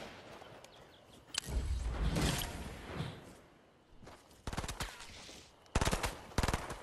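Video-game gunfire in a duo match: a sustained burst of automatic fire, then a quieter stretch, followed by several short, sharp bursts of shots near the end, close and loud.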